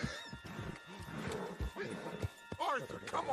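Horse hoofbeats and whinnies in the open-world western game Red Dead Redemption 2, mixed with loud clattering action and voices talking throughout.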